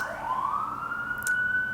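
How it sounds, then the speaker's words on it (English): A siren wails loudly nearby, its pitch rising and holding steady in a sustained tone, with a brief burst of higher noise near the end. "I'm gonna wait for the sirens."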